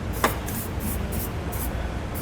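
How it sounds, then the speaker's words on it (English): Rust-proof spray paint hisses onto bare steel at a trailer hitch install on a 2017 Subaru Outback: one sharp spray burst, then softer hissing puffs repeating at a steady rhythm, close by. "Now I like to use a little rust-proof spray paint here."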